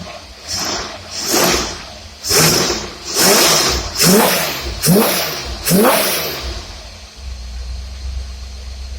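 An engine with a Holley carburetor warms up and is revved repeatedly, giving five or six loud rising and falling roars close by before it settles into a steady idle.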